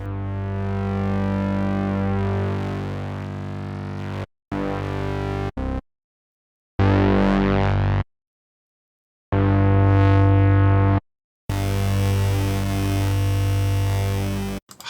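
Buzzy tones from the Air Hybrid 3 software synthesizer with harsh, gritty overdrive distortion, played in several loud bursts separated by short silences, with no talking.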